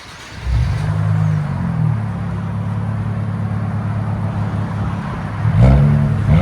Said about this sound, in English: Nissan Z. That's what it sounds like with a muffler delete.